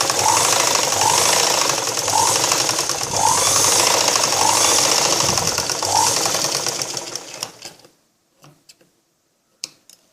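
A sewing machine stitches a blouse seam, running in a fast, loud mechanical rattle with regular rhythmic pulses for about eight seconds before stopping, followed by a few faint clicks in near silence.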